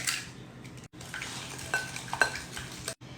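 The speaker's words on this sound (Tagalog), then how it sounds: "mix nyo lang yung butter at saka yung sugar" Butter and white sugar are mixed in a bowl with a utensil, giving quiet scraping and light clinking strokes with short pauses and a few sharper knocks against the bowl, close and soft.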